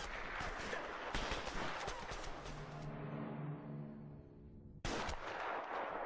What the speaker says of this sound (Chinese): 互相开枪